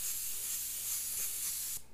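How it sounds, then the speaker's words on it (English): Airbrush spraying medium gray paint over a skull stencil, a close steady hiss of compressed air and paint lasting nearly two seconds before it tapers off. "And I'm not going to spray a ton here and here."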